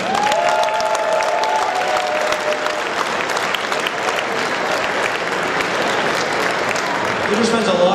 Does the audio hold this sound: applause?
yes